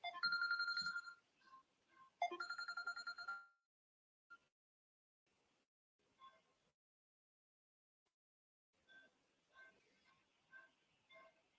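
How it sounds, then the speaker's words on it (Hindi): Two loud bursts of an electronic telephone ring close by, followed by quieter intermittent ringing and faint talk in the pauses. "एक कोई टेलीफोन आ रहा है"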